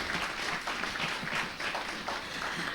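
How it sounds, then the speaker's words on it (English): An audience at a conference session applauds the presenters, a steady burst of clapping of moderate loudness lasting a few seconds. "Can you give all our presenters a round of applause?"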